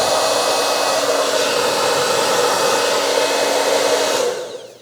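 A Berta salon hair dryer runs at close range with a steady, airy whoosh and a faint motor whine, holding constant for over four seconds before winding down at the end.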